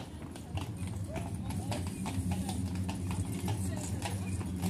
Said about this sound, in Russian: Лошадки.